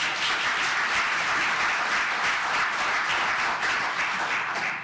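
Audience clapping at a public planning commission meeting, a continuous, even burst of applause from a roomful of people that holds steady from start to finish.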